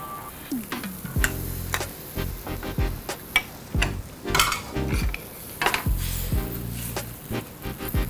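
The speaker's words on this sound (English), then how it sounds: "to this sauce, I'm gonna add my cornstarch slurry" Cornstarch slurry poured into Mongolian beef sauce and stirred, with repeated clinks and scrapes of a utensil against a pot and a faint sizzle underneath, loud and close with no talking.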